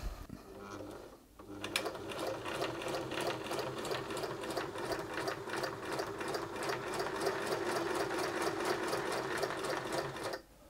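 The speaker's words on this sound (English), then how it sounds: "you'll see that the machine continues to chain out here" A Singer 631G sewing machine runs steadily while sewing a chain stitch seam, a fast, even mechanical whir and rhythmic needle clatter that starts after a brief pause and carries on loud and close to the end.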